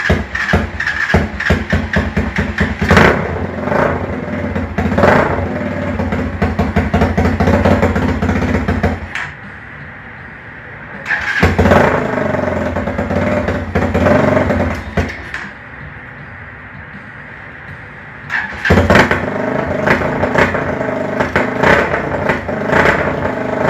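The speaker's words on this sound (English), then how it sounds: "I have the idle up kind of high, so hopefully it'll start." Small homemade engine with its idle set high, running in loud steady clattering bursts with brief drops to a quieter idle between them, close by.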